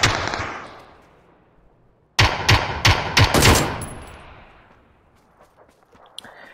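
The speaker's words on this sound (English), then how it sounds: "Shooting somewhere." Gunfire in PUBG: a faint shot fades out, then a loud close burst of several rapid rounds rings and decays into quiet.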